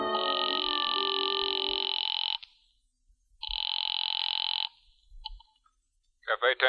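Telephone ringing and line tones from a call placed in a phone booth in an old radio drama, with a long steady ring, a pause, a second shorter ring, then brief clicks and tones.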